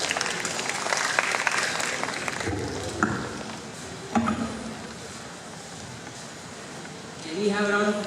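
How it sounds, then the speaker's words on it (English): An audience applauds at a school life-skills presentation, with sustained, fairly loud clapping that thins out before a voice begins talking. "Can we have a round of applause, please?"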